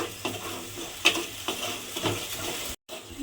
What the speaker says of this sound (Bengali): মশলাটা যে বানিয়ে রেখেছিলাম সেটা আমি তেলের মধ্যে দিয়ে দিয়েছি দিয়ে এবারে মশলাটাকে একটু কষিয়ে নিতে হবে